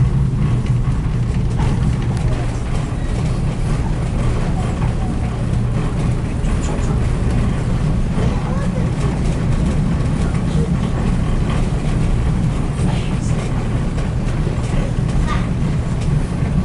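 Passenger train rolling on the historic Western and Atlantic line near East Chattanooga, heard from on board as a continuous low rumble and rattle, steady throughout.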